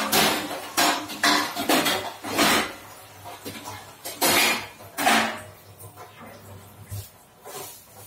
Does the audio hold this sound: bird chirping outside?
no